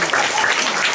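Audience applause at a Balinese village temple performance, a dense, loud burst of many hands clapping steadily throughout, close and without talk.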